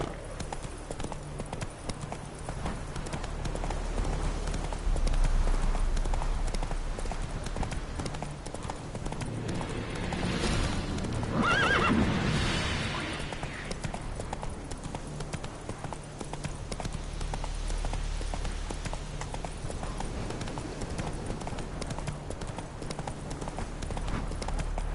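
Roach, a horse in The Witcher 3 video game, gallops with fast, steady hoofbeats, a continuous loud clip-clop rhythm that swells and fades over a rushing background.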